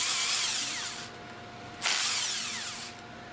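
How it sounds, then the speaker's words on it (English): An impact wrench fitted with a 5mm hex loosens the top cover bolts on a General Pump MKS plunger pump, giving two loud, high, whirring bursts separated by a short pause. "Use the impact wrench with a 5mm hex attached to loosen the 4 bolts from the top cover."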